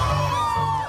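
A cheering, whooping crowd lining the streets at a Pride Parade, a loud sustained burst of shouts and cheers.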